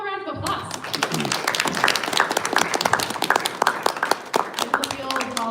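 Concert audience applauding partner organizations, dense clapping that starts after a brief tone and holds steady and loud to the end, with scattered sharp claps and a voice coming in near the close.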